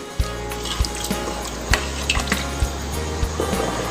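Water pours into a pot of masala with a steady splashing, gurgling rush, and soft knocks and taps of a utensil against the pot sound in a regular rhythm throughout.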